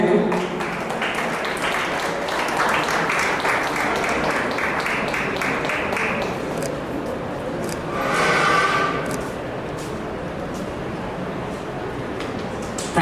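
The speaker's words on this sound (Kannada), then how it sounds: "ನಿಮ್ಮೆಲ್ಲರ ಜೋರಾದ ಚಪ್ಪಾಳೆ ಬರಬೇಕು." An audience at a state award ceremony applauds continuously, a dense wash of many hands clapping for several seconds, with some voices mixed in.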